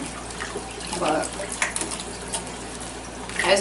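An iguana swims in a shallow bath, its movements making soft, irregular splashes and sloshing water that rise and fall close by.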